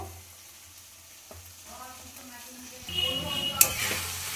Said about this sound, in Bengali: খুব ভালোভাবে আমি মশলার সাথে আলু ফুলকপিটা ভেজে নিচ্ছি।